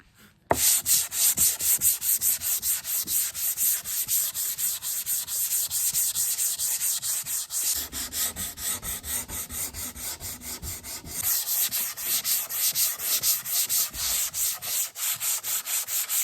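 Wooden TV stand parts being sanded outdoors, a steady rasping rub repeating in quick strokes close to the microphone with a brief pause partway through, no voices.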